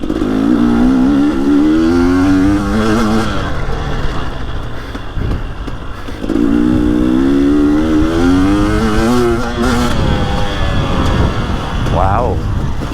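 Two-stroke dirt bike engine, a 2023 Husky TX300 or 2023 KTM 250XCW, revving up and down in repeated rising pulls close by, loud and continuous, with a brief dip mid-clip before climbing again under occasional talk.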